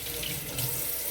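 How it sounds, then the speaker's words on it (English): A tap runs steadily into a sink as lemons are rinsed underneath, water splashing close by with a constant rushing hiss and slight changes. "I'm just gonna wash these lemons."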